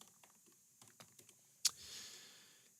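Soft keystrokes on a computer keyboard as a search is typed, a sparse run of light taps ending in one sharper click, quiet and close.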